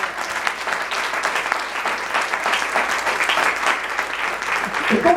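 Steady applause from a church congregation during a Spanish-language sermon, a dense wash of clapping that holds at an even level for several seconds, with no talk over it.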